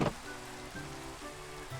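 Rain falls steadily in the Minecraft video game, a soft continuous hiss that carries on under low, sustained in-game tones.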